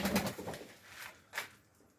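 A Garip Kanat Posta pigeon gives a few soft, brief coos and wing flutters, quiet and close, with pauses between the sounds.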